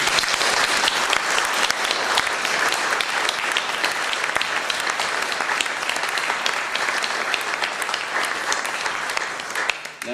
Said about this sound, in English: ask for a round of applause once again for Harry